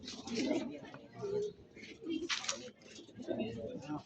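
Pigeons coo softly in low, rolling calls, fairly faint and mixed with background chatter and voices nearby.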